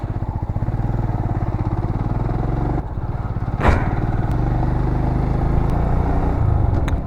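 A motorcycle racing at high speed along a toll road on a long-distance ride through northern India roars with a loud, steady engine drone and rushing wind. One brief swelling whoosh passes midway.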